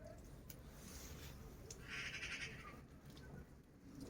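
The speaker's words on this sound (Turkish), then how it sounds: "Kuşların sesi ne kadar güzel." Faint bird calls and chirps drift over a noisy, rumbling background outdoors beside a cauldron cooking over a smoky fire, with a brief busier burst of birdsong midway.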